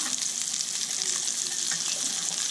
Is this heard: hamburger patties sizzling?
yes